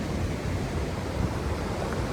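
Water rushes at Tarali dam as a loud, dense, continuous roar heard from a nearby bridge, with no talk over it.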